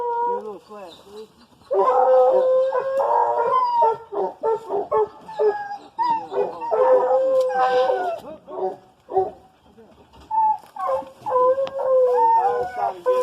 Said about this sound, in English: Dog's trying to get out, man.